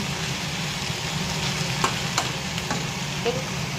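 Spiced potato and cauliflower being stirred in a pan, a constant close sizzle with a few sharp spatula scrapes and knocks, no voices.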